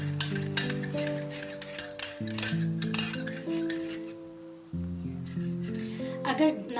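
A spoon stirring red chili powder into a bowl of bottle gourd raita, with soft clinks and scraping against the dish, set against a steady background of music.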